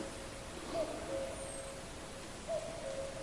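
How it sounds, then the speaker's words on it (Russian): Common cuckoo calling in spruce taiga forest, two soft, distant two-note calls spaced about two seconds apart over a steady hiss of ambient background. "Кукушка."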